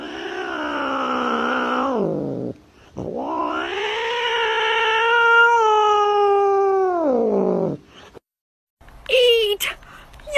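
A cat reacting to a played sound with long, drawn-out yowling caterwauls, loud and close, followed by a short sharp burst of noise. No talking.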